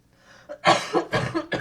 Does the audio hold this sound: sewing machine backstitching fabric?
no